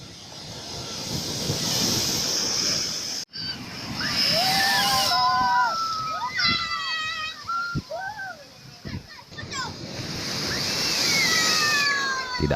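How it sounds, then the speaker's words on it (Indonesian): Seawater surges and sloshes over a rocky breakwater at Ujung Blang beach during a full-moon high tide, a loud rushing wash in repeated swells, with voices talking over it in the middle. "Ketinggian air laut bahkan melewati batu pemecah ombak di pantai Ujung Blang."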